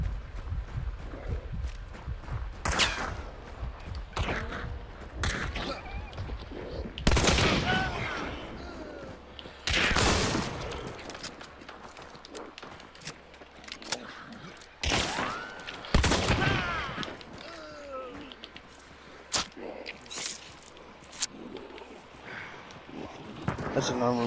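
Cobalt rifle firing Dum Dum ammo in a video game, sharp gunshot bursts in several short volleys spread through the stretch, mixed with other game noise and talk.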